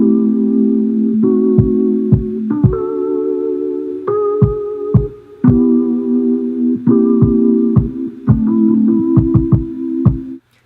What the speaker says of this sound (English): So let's check out the kick part.